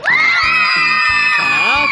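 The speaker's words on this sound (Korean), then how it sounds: "박수 주세요!" Children shout and cheer at a sports day relay race at Icheon Plays theme park, with loud, high, sustained voices and a few claps or bangs beating beneath them.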